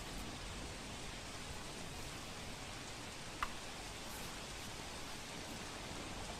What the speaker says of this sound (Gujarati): વ્યારા અને બાજીપુરામાં મુશળધાર વરસાદની શરૂઆત થઈ છે।